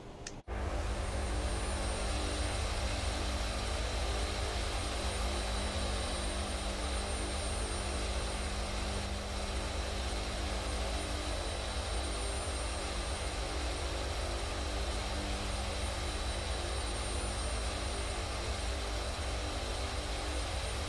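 Steady, loud drone of Hercules aircraft engines in a flight simulator game, a broad constant roar with a humming tonal layer, running unbroken for the whole stretch after a brief start, no voices.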